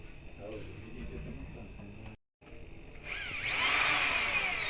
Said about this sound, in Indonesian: Bor aja lagi